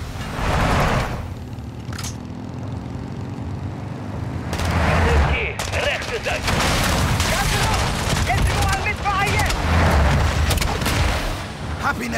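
Loud, dense Call of Duty: Modern Warfare 2 campaign battle with near-continuous gunfire and heavy booming explosions, bursts stacking over a steady rumble, with radio-style voices shouting over the fighting.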